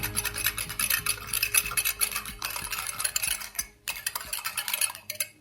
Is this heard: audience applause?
no